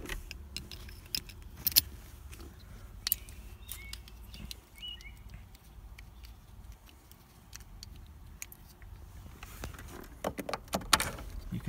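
Keys jangle and clink in a Ford ignition during use of an 8-cut ignition removal kit, with scattered sharp metallic taps and rattles close by, quiet between bursts and busier toward the end.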